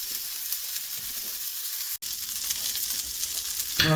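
Cheese-stuffed burgers fry in a hot pan with a steady, dense sizzle throughout, briefly cut out once midway, then a louder crackling burst near the end.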